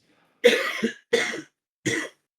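Three harsh coughs ring out close and loud, the first two doubled, separated by brief silences.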